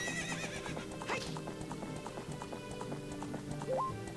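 A horse in Ocarina of Time gallops with steady clip-clop hoofbeats over game music, then gives a short neigh near the end.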